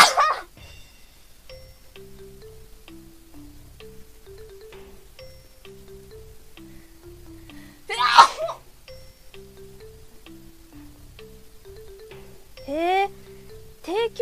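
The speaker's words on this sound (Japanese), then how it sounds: "うわ、くしゃみ出る。" A person's sneeze bursts out once, loud and close, over steady background music with chimes, with a second sharp vocal outburst a few seconds later.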